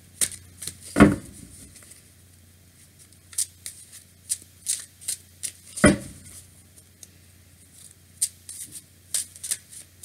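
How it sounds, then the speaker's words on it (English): Playing cards flip and riffle out of a deck in two sharp bursts with scattered soft card snaps and taps between them, close and fairly quiet with no talking. "cards flipping out"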